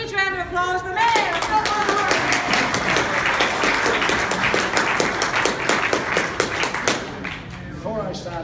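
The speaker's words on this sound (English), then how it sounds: "Give him a huge round of applause, the mayor." Audience applause for the mayor at an Australian poetry festival's mayoral challenge: dense, steady clapping from a crowd filling the room, loud and continuous, with a voice briefly heard at the start and end.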